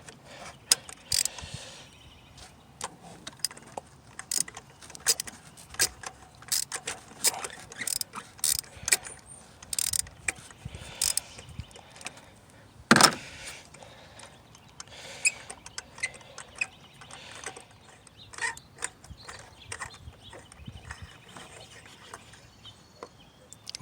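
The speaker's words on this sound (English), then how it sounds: "Then you take your ratchet." A small ratchet works on a spark plug of a 2016 Honda Fit, giving steady rapid clicking close up over a long stretch, with one sharper metallic clack partway through.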